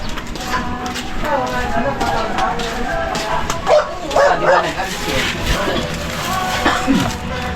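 A dog barks and yips a few times at moderate distance, while people talk over it in the foreground.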